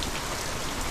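Heavy rain pours steadily in a dense, unbroken hiss across the whole moment, close by and loud, with no voices during a typhoon at a pomelo harvest.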